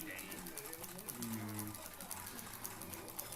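Singer Featherweight 222K sewing machine running a zigzag stitch on test fabric, a steady rapid mechanical whir with a low rhythmic hum throughout, close by.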